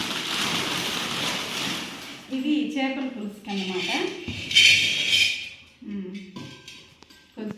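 Clay pots, lids and a flat clay pan are picked up and shown one after another. There are light clinks and knocks between stretches of close speech, and a person talks over most of it.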